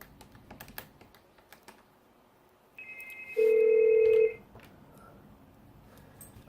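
Key taps on a mobile phone precede an outgoing call on a Samsung WE VoIP business phone app for Android, followed by a sustained electronic tone lasting about a second, clear and close, with no voices.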